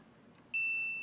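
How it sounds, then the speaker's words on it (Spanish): A MAM-860 controller's alarm goes off after its temperature sensor is disconnected: after half a second of quiet room noise, a steady, piercing electronic tone starts abruptly and holds loud to the end. "Inmediatamente se activa la alarma. Vean ustedes, se ha desconectado el sensor."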